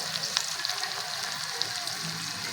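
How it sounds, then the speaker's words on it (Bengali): Spice masala frying in a pan for a mustard pabda fish curry, with chili powder and salt added: a steady, even hiss of sizzling oil, close and moderately quiet, with no speech. "ভালো করে মশলাটাকে ভেজে নেব"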